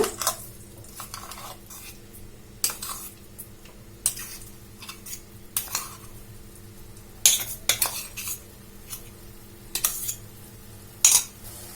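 Ground lentil and coconut paste stirred in ghee in a pan on a low stove, with repeated metal spoon scrapes and clinks against the vessel in an irregular rhythm, close and clear.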